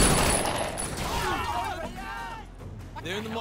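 Gunfire in the video game Sleeping Dogs: a loud burst of shots at the start fades into softer crashes and game sounds, with voices speaking over them.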